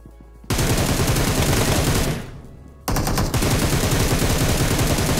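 Loud, continuous automatic gunfire in the battle-royale shooter PUBG / BGMI, a dense rattling burst that pauses briefly mid-clip, then resumes at full intensity, close and without talk.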